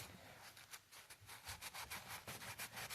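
Cloth rubbing with alcohol over a small area of an oily, dirty vintage sewing machine, giving a quiet series of rhythmic scrubbing strokes that quicken in the second half.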